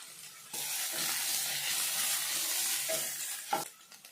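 Vegetables with ginger-garlic paste sizzle steadily in a hot pan, with a few scraping stirs partway through.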